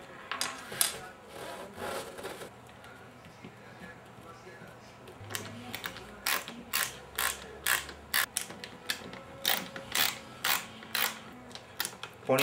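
A power screwdriver drives screws into parts of an assembly, giving a series of short, sharp whirring and creaking bursts that grow regular toward the end, with faint background voice between them.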